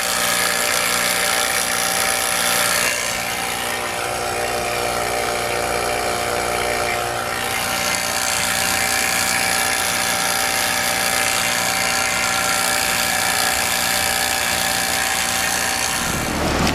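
A refrigeration unit runs continuously after a refrigerant leak repair, a loud, steady mechanical drone with a faint helicopter-like throb, its tone shifting slightly a few times.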